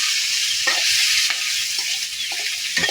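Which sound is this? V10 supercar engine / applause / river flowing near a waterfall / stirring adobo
stirring adobo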